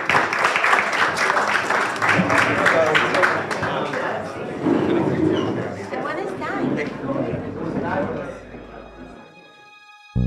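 A live audience claps for two guests at a talk-show style recording, the applause mixed with chatter and voices before it dies down into near silence.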